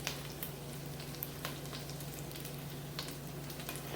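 Vegetables for a chicken lo mein stir fry frying in a hot pan, a steady moderate sizzle with small crackles and light clicks of stirring, heard alone without talk.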